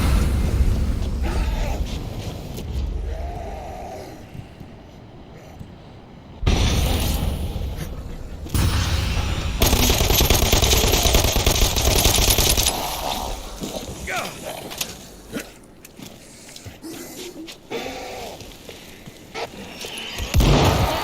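Dead Island 2 gameplay against zombies: loud booming grenade blasts and bursts of gunfire break through the game sounds, while someone talks over the action.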